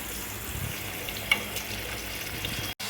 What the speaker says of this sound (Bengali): কাঁকরোলটা লাল লাল করে ভেজে নিয়েছি।